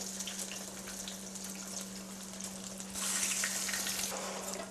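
Yams, carrots and onions frying in hot oil give a steady, close sizzle and bubbling crackle that swells louder and brighter partway through, with no talking.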